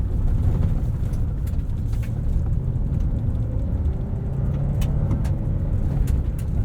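A 2022 Nissan Frontier Pro-4X with a 3.8-liter V6 crawls an off-road trail at about 7,000 feet altitude, giving a steady low engine drone with rumble and faint crunches from outside, no talk.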